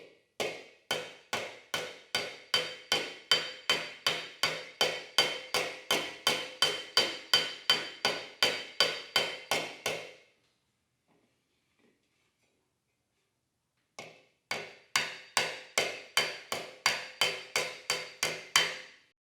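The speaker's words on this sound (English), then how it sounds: "I'm just going to sit here and slap all the remaining ripples out of this." A body slapper taps out ripples in a vintage Porsche 356 hubcap held over a form, striking in a steady run of sharp metallic blows for about ten seconds, pausing, then resuming at the same even pace.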